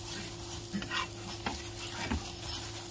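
Aloo paratha frying in ghee on a pan, a steady close sizzle with occasional stirring scrapes and soft taps over a faint background hum.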